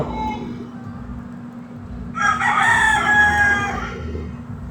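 A rooster crows once, loud and drawn out, over a steady low hum and background noise.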